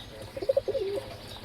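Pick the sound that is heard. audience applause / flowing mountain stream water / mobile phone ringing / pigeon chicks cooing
pigeon chicks cooing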